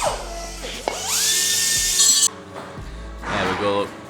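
A power tool cuts exhaust pieces out of the rear diffuser of an Audi with a 3.0 TDI engine, giving a loud, close, high whining grind for about two seconds, followed by a shorter second burst of cutting.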